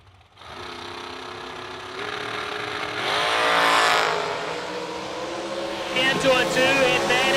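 Drag race cars launch down the track at a winter warmup event, a steady loud engine roar swelling and rising in pitch with a second surge near the end, heard at a distance.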